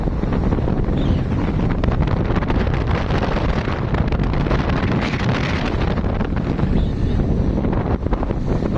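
Strong, steady wind roars and buffets across the whole clip, loud and constant, as air rushes past people standing on a moving vehicle in Leyte.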